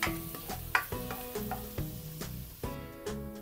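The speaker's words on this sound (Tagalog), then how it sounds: "Magigisa muna tayo ng bawang. Isang ulo ng bawang yan. I-light brown lang natin yan" A whole head of garlic sautés in oil in a pan, giving a soft sizzle broken by repeated clinks and scrapes of a spatula stirring in a steady rhythm.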